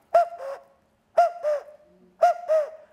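A handheld bird lure imitates a cuckoo call, giving three clear, evenly spaced two-note hooting phrases, close and moderately loud, with short pauses between them and no talking.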